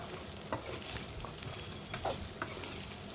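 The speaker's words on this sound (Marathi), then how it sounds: "छान असं परतून घ्यायचं आहे पाच ते दहा मिनटं फुल गॅसवरती परतत राहायचं आहे" Mung dal vadas sautéed in a pan over a high flame: a faint, continuous sizzle broken by a few soft scrapes and clinks of a spatula, with no talking.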